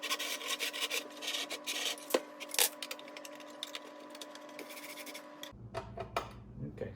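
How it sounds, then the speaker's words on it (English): A Harbor Freight 4x36 belt and 6-inch disc sander runs with a steady hum while its cover rubs against something, giving a continuous raspy scraping with a few sharper scrapes, then the tone drops away near the end. "the rubbing was this cover was rubbing on something"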